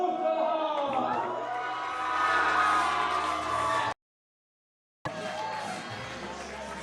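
University darts players and supporters at a Roses match chant and cheer together in a loud, sustained group roar, broken by a full second of silence before the noisy crowd resumes.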